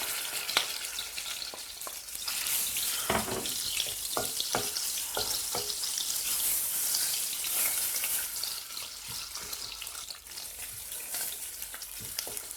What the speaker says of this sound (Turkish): Hemen ardından salçamı ilave ediyorum. Bir yemek kaşığı domates, bir yemek kaşığı da biber salçası.